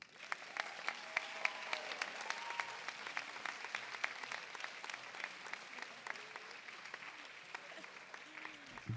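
Steady audience applause at a high school graduation ceremony, a broad field of individual claps at moderate distance, with a few faint whoops and voices rising through it.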